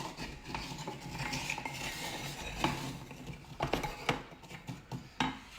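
Sugar-coated hazelnuts being stirred in a pan on an induction hob, a spoon scraping and clattering against the metal with irregular knocks and a faint sizzle, close and steady without talk.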